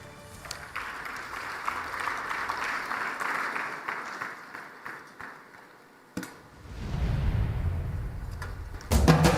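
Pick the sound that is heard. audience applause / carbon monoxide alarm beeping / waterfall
audience applause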